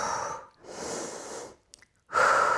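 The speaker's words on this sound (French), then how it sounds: "j'inspire et j'expire calmement." Calm breathing during a yoga pelvis-lift exercise: a long, audible breath in and out, a brief pause, then another strong breath, close and clear with no speech.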